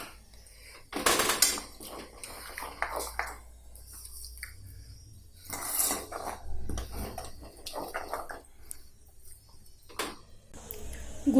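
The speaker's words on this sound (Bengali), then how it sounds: "এই পর্যায়ে এখানে আমি দিয়ে দেবো গুঁড়ো দুধটা ঢেলে দিয়ে ভালো করে নাড়াতে থাকবো এবং ভালো করে মিশিয়ে নেব।" A spoon stirring powdered milk into warm milk in a pan for coconut barfi, with intermittent metallic scrapes and clinks and liquid swirling between pauses, close and moderately loud.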